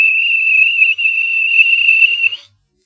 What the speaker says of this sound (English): The guard whistled and waved his red flag.